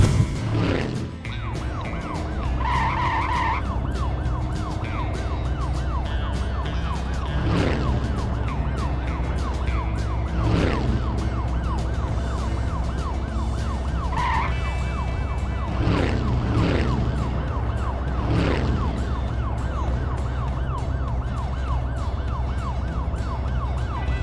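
A police car siren wails in a steady rising and falling pattern, loud and continuous throughout, with engine rumble beneath and a few brief horn-like tones.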